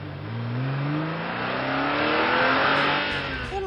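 A voice imitating a car driving, a continuous revving drone with rising and falling engine-like pitch sweeps, loud and close throughout without a break.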